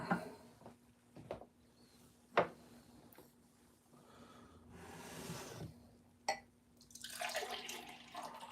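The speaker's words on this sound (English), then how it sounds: "let's pour some juice" Juice poured at a brunch celebration, heard as a soft liquid splash and trickle with a few sharp clinks and drips, fairly quiet and with no talk over it.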